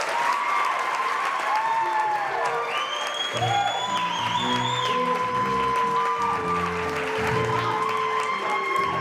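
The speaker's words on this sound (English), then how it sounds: "Keep clapping!" An audience at a high school musical claps steadily, with scattered whoops and cheers, while sung or spoken voices with held notes carry over the applause throughout.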